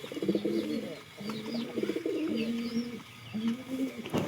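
Pigeons coo in repeated low, throaty phrases while feeding, several birds close by, with faint higher chirps scattered above.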